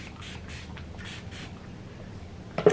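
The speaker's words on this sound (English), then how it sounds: "So generally I go back in with that setting spray." Setting spray is spritzed over makeup on a face in a few short, faint hissing puffs, followed by a brief louder knock near the end.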